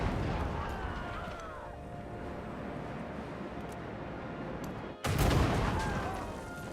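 Battleship guns firing in the strategy game Civilization VII, a continuous roar of booming gunfire with one sharp, louder blast near the end, heavy and close.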